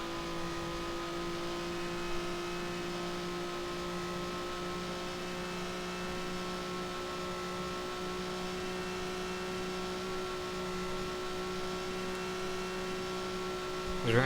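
Steady droning engine of a 1955 Formula One car in the Grand Prix Legends racing game at Spa in Belgium, a constant whining hum held with little change in pitch, heard alone.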